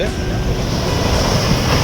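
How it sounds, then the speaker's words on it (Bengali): Strong sea waves surge and break at Kargil Beach in Bakkhali during a high spring tide under an overcast sky, a steady loud roar of surf mixed with wind buffeting the microphone, with no clear pauses. "ভরা কোটালের সময় ভালো সমুদ্রের তেজ, প্রচণ্ড ঢেউ"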